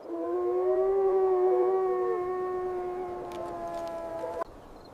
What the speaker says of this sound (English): The sound of a coyote howling could mask a signal.